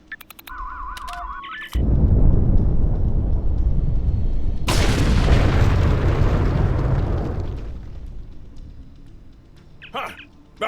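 A heavy explosion booms in the Star Trek Online video game, a loud rumbling blast that swells a few seconds in and fades over several seconds, with brief electronic interface tones before and after.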